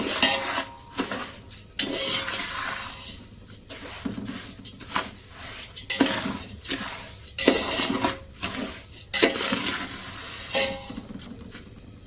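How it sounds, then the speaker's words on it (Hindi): Sugar is stirred with ghee and dry fruits in a metal pot for sweet yellow rice, a spoon scraping and clinking against the pot in a steady, uneven rhythm, close and moderately quiet. "चीनी को करेंगे मिक्स घी के साथ और ड्राई फ्रूट के साथ।"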